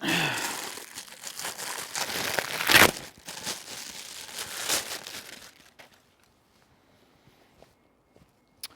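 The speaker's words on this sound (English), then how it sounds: "And you just rip this one out." A motorcycle part for a Yamaha MT-07 is torn out of a plastic bag close up, with rustling crinkles, a sharp rip near the middle, and then near silence with a few faint clicks.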